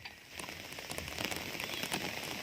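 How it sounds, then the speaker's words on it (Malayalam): Heavy rain falls in a Kodaikanal forest near a secluded bungalow, a dense, continuous patter of drops hitting surfaces close by, growing slightly louder as it goes on. "നല്ല മഴയാണ്."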